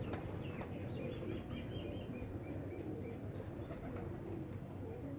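Shah Parwaz breed pigeons coo softly in a loft, low rolling coos repeating under steady background noise with a few faint higher chirps.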